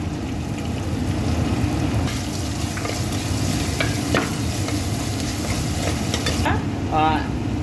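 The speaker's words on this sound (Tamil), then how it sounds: "அந்த பூண்டையும் சேர்த்து இதோடு சேர்த்து நல்லா வறுக்கணும்." Crushed garlic and dried red chillies fry in a pan for an okra tamarind curry, making a steady close sizzle with occasional stirring scrapes from a spoon.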